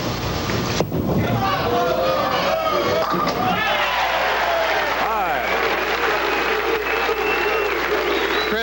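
Crowd at a professional bowling title match applauding and cheering, a dense roar of claps and shouts filling the whole stretch, with a commentator talking over it.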